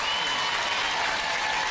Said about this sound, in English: fans give both teams an enormous round of applause on a great match